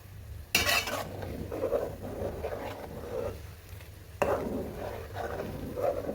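Homemade hair oil with onion being stirred in a pan, a metal utensil scraping and clinking against the pan in irregular strokes, with two sharper knocks, close and fairly quiet.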